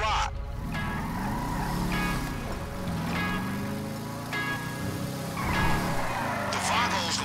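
A car in Grand Theft Auto V drives along, its engine rising and falling through gear changes, while a voice talks over the motor.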